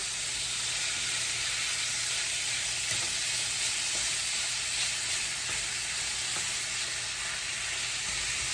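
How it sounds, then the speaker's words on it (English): Lean ground beef browns in a skillet over medium-high heat, making a loud, continuous hiss and sizzle. The sound stays steady and close throughout, with no speech. "So we want to make sure that we brown this off in our skillet."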